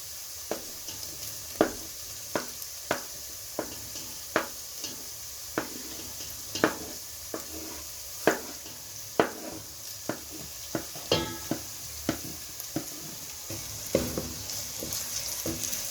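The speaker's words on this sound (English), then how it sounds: "So continue stirring it until the tomato is cooked like for 2 minutes." Tomatoes fry for githeri in a pot, a soft steady sizzle punctuated by regular sharp clicks of a spoon striking the pot during stirring, close and moderately quiet, with no talking.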